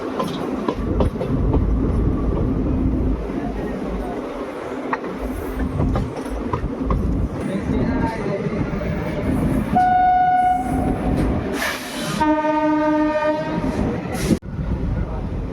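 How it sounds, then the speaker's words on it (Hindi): A passenger express train on the Ringas–Kuchaman City line in India rolls around a curve, its steady rumble and wheel noise filling the scene, with a loud multi-tone horn blast sounding twice near the end. "पीछे से भी आपको दिखाता हूँ कर्व करती हुई ट्रेन।"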